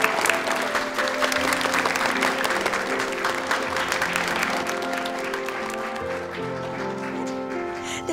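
A room full of people clapping, dense and sustained applause that stays close and loud throughout, with a few faint voices mixed in.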